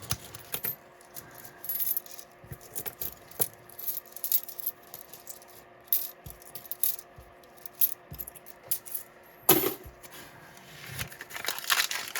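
Nickels handled after a coin roll is opened during a coin-roll hunt, heard as close, scattered metallic clinks and jingles with crinkling wrapper noises and a louder clatter near the end.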